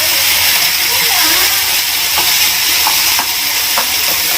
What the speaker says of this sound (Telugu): ఇందులో వేసుకుంటే మనకి ఇలాగే వేగిపోతుంది.